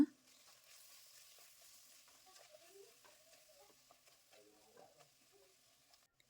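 Vangibath, a spiced brinjal rice dish, being stirred with spice powder and salt in a pan, giving a faint, steady sizzle with soft scraping stir sounds throughout and no voices.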